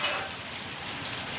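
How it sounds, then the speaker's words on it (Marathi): Heavy monsoon rain falling in Dombivli: a dense, steady wash of raindrops on surfaces fills the whole stretch, with no voices. "तुम्ही बघू शकताच आपल्या इथे जाम मुसळधार असा पाऊस पडलेला आहे"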